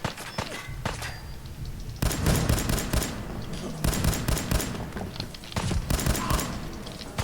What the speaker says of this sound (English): I missed a ton of shots then.